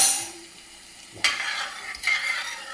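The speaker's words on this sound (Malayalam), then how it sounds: "പതുക്കെ ചക്ക ഇളക്കിക്കൊണ്ടിരിക്കണം" Jackfruit being slowly stirred in a hot pan with onion, ginger, green chilli, cumin and red chilli, giving a soft continuous sizzle with two distinct scraping strokes of the spoon against the pan.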